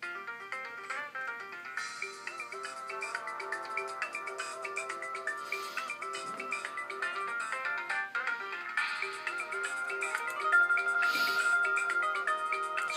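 Music played through the built-in speakers of a Dell laptop, a thin, steady melodic tune with a ringtone-like tone that runs continuously at moderate level, with no talking over it.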